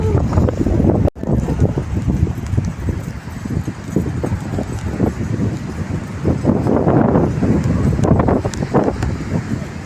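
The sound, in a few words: wind blowing at Thannirbhavi beach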